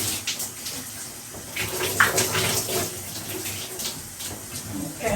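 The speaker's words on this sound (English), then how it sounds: "Okay, I'm turning the water off" Warm tap water runs steadily during a hair wash, a constant splashing rush with small fluctuations as the water hits hair, close and fairly loud.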